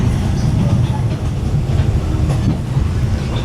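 A passenger train on the Sabah railway rumbles along steadily from inside the carriage, loud low-pitched wheel noise with faint rhythmic clacks throughout.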